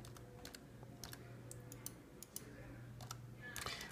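A password being typed on a computer keyboard, a quiet scatter of light key clicks in irregular bursts over a low steady hum.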